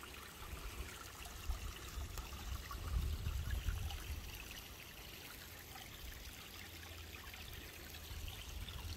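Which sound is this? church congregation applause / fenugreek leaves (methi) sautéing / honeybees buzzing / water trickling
water trickling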